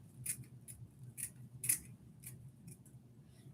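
Scissors cut wig lace along the hairline with a series of short, crisp snips, spaced unevenly and close up in a quiet room, with no talk.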